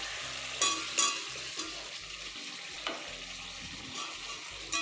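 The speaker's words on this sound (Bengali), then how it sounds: "আলুগুলো দিয়ে ভালো করে নাড়াচাড়া করে নিই না" Potatoes and cauliflower stirred in a frying pan, a soft continuous sizzle broken by several scraping stirs and knocks of the spoon against the pan.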